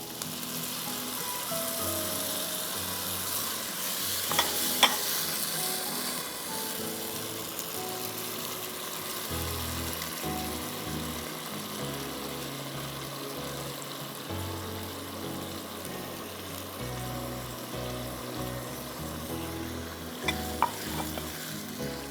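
Tomato puree frying with softened onion and garlic in a pan, a constant close sizzle with occasional spoon scrapes and stirring clicks.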